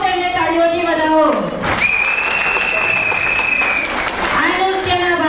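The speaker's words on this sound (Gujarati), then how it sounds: "તો સૌ તેમને તાળીઓથી વધાવો." An audience applauds a group of dancers after their self-choreographed Tera Taal dance performance, with broadband clapping filling the clip steadily from start to end, a voice audible at either end and a sustained tone through the middle.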